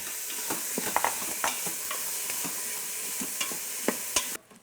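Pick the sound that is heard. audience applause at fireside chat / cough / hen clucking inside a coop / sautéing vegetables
sautéing vegetables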